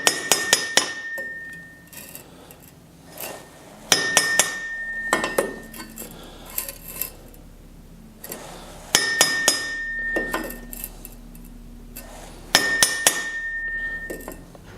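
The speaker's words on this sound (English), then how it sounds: "Grab the brass hammer here." A brass hammer taps a flange part in a vise to level it for pipe flange welding, giving several sharp metallic clinks in a few spaced clusters with ringing decay, close and fairly loud in a quiet shop.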